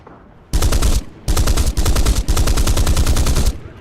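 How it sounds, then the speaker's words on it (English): A Spitfire fighter in the War Thunder combat game fires its machine guns on a strafing pass, with three long, loud, rapid bursts of dense automatic fire separated by brief pauses and no voices. "We're going to do a strafe"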